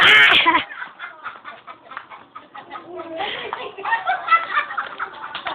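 Chickens cluck and squawk in short bursts close by, with people talking and calling out over them throughout.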